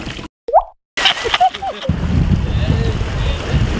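A person jumps off a wakeboard boat into the water: a sharp splash with brief plop, followed by steady wind and engine rumble on open water, close and fairly loud, with voices calling out around it.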